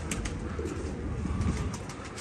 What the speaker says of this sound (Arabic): هاي طيور لؤي.